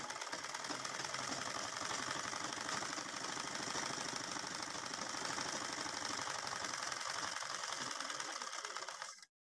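A tailoring sewing machine running continuously to test its stitching after thread tension adjustment, a fast steady mechanical whirr and rapid needle clatter held at even loudness for about nine seconds before stopping abruptly.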